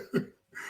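A single short cough, close and fairly soft, followed by a brief pause and a faint breathy sound.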